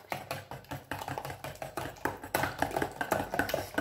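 Spaghetti squash rösti batter with eggs being stirred in a bowl, giving a quick, steady run of close tapping and scraping strokes that continue alone for a few seconds.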